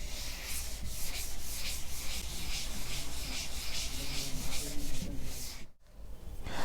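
Continuous brisk rubbing as writing is erased from a board, a steady scrubbing rhythm that runs close and loud for several seconds, breaks off briefly near the end, then resumes.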